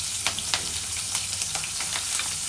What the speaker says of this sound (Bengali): পেঁয়াজ কাঁচামরিচ দেওয়া হয়েছে তেলের মধ্যে।